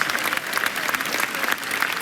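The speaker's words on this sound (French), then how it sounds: "N'arrêtez pas vos applaudissements." A crowd in the stands at a Saut Hermès show-jumping event applauds, dense and sustained clapping filling the whole stretch, loud and close.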